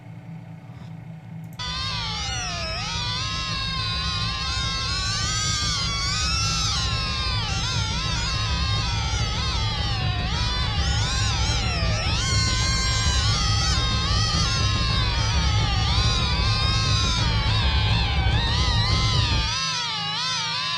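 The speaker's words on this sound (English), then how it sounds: "The final boss theme, if you've never heard it, sounds like this." Electronic video game final boss theme music plays continuously, with a high, wavering synth melody over a steady low backing, starting abruptly and cutting off near the end.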